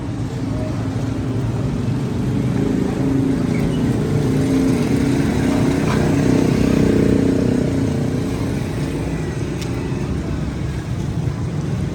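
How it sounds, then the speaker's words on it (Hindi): Road traffic passing near Data Darbar in Lahore, cars and motorcycles rumbling along steadily and fairly close, a continuous broad engine drone with no break and no talk. "ट्रैफिक आ रही है सेक्रेटरीट वाली साइड से"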